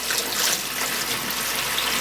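Cold water runs from a tap while filling a vessel for brewing a Christmas ale, a steady close rushing splash that holds without pause.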